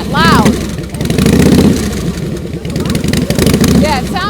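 A motorcycle engine runs with the throttle held open so it won't stall, giving a loud, rough, rumbling roar that surges and dips. Voices talk over the engine noise.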